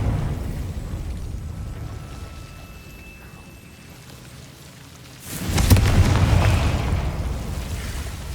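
Confringo fire spell in Hogwarts Legacy on PC: a loud, sudden explosive blast bursts in after a quiet, low ambient stretch, then a dense roaring rumble that holds to the end, with no talking.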